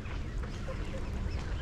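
Geese at a canal dock basin during a 24-hour event, honking and quacking in a steady busy chorus over dense outdoor noise and wind.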